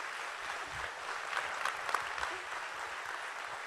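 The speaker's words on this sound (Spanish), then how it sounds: "Un aplauso para don Ivo y para Marilyn Cochamanidis" Audience applause at a Banco Económico conference with Dr. Enrique Rojas, a moderate, steady patter of many hands with a few sharper claps standing out near the middle.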